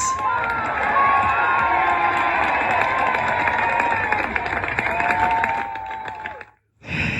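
Crowd cheering and shouting at a wood chopping competition, a loud, sustained roar of voices that holds steady before cutting off abruptly near the end.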